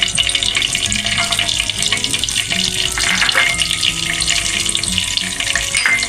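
Two bay leaves and two cinnamon sticks sizzle in hot oil, giving a loud, close, continuous frying hiss and crackle with faint stirring scrapes underneath.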